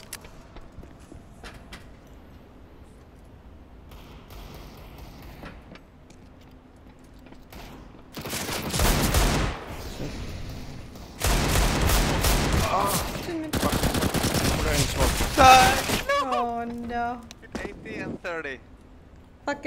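Gunfire in CS:GO on the Vertigo map: after a quiet stretch of talking and footsteps, loud bursts of rapid automatic fire rip through in several long volleys, then fade out, with players' voices heard around them.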